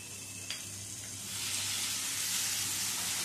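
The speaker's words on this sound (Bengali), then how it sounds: "এবার ভালো করে মশলাটা কষিয়ে নিতে হবে।" Tomato and Kashmiri chilli paste frying in hot oil: a steady close sizzle that swells louder after a soft clink, hissing continuously without speech.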